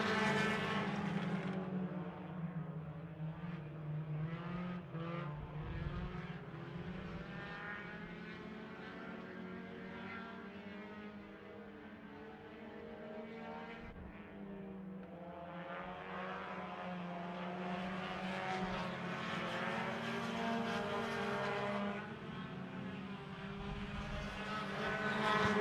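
Race cars at Victory Lane Speedway in a Saturday afternoon race, engines droning and whining continuously as they lap the track, rising and falling in pitch as the cars pass.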